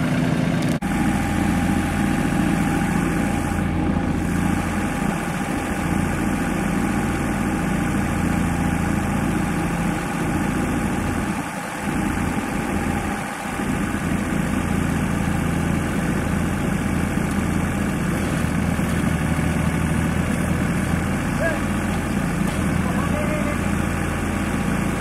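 A tractor engine idles steadily nearby at a solar tracker build site, a constant low rumbling hum with a few brief dips, and a voice speaks over it at times.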